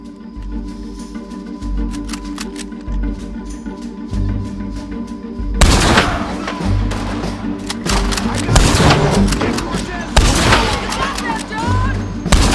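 Gunfire in the video game Red Dead Redemption cracks out in rapid, loud bursts of shots over a low musical score.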